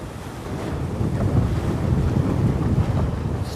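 Sea waves washing around a ship at anchor off Malta, a steady close roar of water and wind buffeting with no voices.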